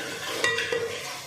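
Whole spices such as cumin and garam masala stirred and frying in a pan for mutton karahi, a close steady sizzle with scraping strokes of a spoon and a couple of sharp clinks.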